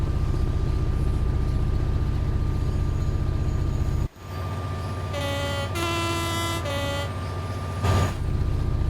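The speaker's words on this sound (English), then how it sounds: "I do like the horn on this train, it is quite nice." Class 66 diesel locomotive horn in Train Sim World 5, sounding several loud two-tone blasts in quick succession over the steady rumble of the idling engine, with a final short toot.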